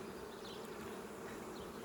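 Honey bees buzz in a steady, dense drone around a hive in a pollination farm setting, close and continuous with no other sounds.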